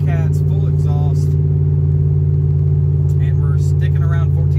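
A cammed, nitrous-equipped Ram 1500 with no cats and a full exhaust tows a boat at steady highway speed, a loud, even engine drone. Someone talks over it in short bursts.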